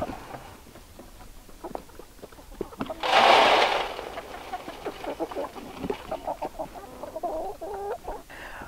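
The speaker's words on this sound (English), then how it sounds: "let me get to feeding these chickens" Chickens cluck and murmur close by in a busy homestead flock at feeding time, with a brief burst of noisy rustling partway through.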